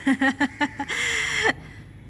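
A series of harsh, nasal caws in quick succession followed by one longer drawn-out call, fairly close and clear.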